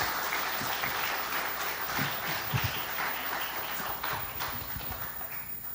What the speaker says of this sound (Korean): 여러분들 뜨거운 박수로 환대해 주시기를 부탁합니다.